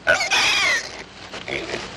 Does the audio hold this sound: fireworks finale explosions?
no